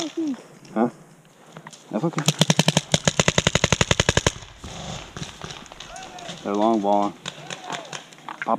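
Paintball markers fire during a woodsball game, one long rapid burst of popping shots up close, with shouted talk and movement before and after.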